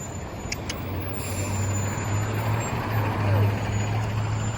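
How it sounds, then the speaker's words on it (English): A heavy garbage truck rumbles steadily on the street with a deep engine drone, some brief high hisses near the start, and a faint voice in the background. "now we got a trash truck, so it's gonna be real loud here too"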